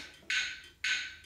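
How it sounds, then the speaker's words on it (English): A metronome set to 111 beats per minute gives two crisp, evenly spaced clicks, quiet and close, with nothing else sounding. "The metronome has to be at 111."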